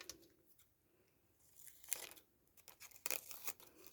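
Scissors snip and crinkle through a thin transparent plastic sheet in a handful of quiet, close cuts, with rustling between the snips and two brighter clusters of cutting toward the middle and end.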